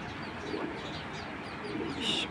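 Pigeons coo softly and continuously in the background, quiet and somewhat distant, with low murmuring calls.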